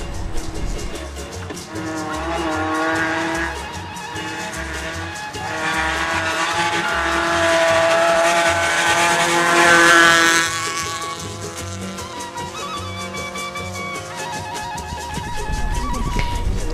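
A Super 2000 rally car races by on a rally stage in Andahuaylas, its engine note rising loudly to a peak and fading, with whining gear changes and rhythmic low thumps of passing sound.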